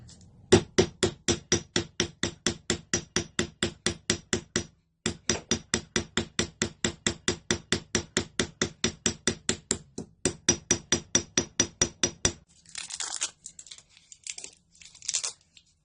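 Steady, evenly spaced light pin hammer taps texturing brass sheet, fast and regular in three runs with brief pauses, then a few softer scraping clinks at the end.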